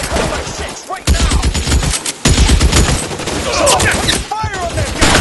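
Rapid gunfire from a shootout in the video game L.A. Noire, loud dense bursts and volleys that come close together, broken by two brief gaps.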